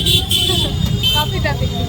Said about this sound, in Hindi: काफ़ी ट्रैफिक रास्ते में, हैवी ट्रैफिक थी आज